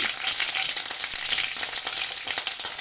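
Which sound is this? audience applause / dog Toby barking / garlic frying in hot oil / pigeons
garlic frying in hot oil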